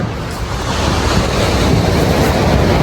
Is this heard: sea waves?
yes